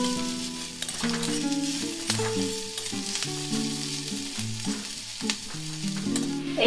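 Chopped onion and garlic fry in oil with a steady close sizzle, while background music plays over it and now and then a utensil stirs or clinks.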